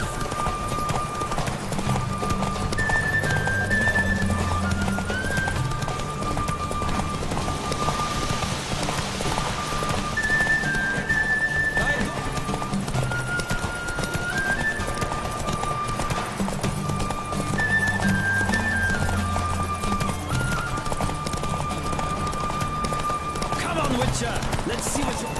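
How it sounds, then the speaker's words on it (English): A horse gallops in a race in the video game The Witcher 3, its rhythmic hoofbeats running steadily throughout under music-like tonal lines, with an occasional whinny-like sound. "Don't spare the horse! Go, go."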